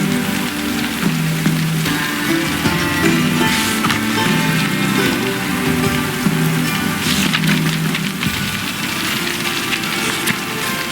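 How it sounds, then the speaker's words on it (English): Steady rain falls in the fantasy video game The Witcher 3: Wild Hunt, a dense continuous patter on surfaces with a low rumbling hum underneath and no talking. "Looks like rain."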